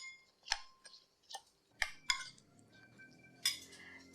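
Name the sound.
mixing achar (cucumber salad) in a bowl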